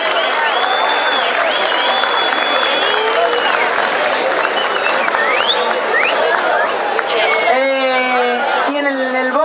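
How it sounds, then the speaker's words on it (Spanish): A crowd at a live folk music event applauds a guitarist, a loud, dense wash of clapping mixed with cheering and shouting voices, with a few whistles near the end. "le pido un aplauso para él"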